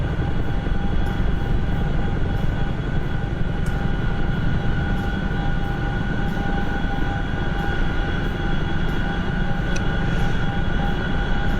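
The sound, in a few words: aircraft on landing approach over the runway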